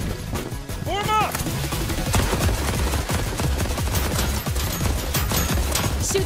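Rapid bursts of gunfire from a Genshin Impact fan animation rattle continuously in dense, loud volleys, with a brief rising whistle early on and speech mixed in.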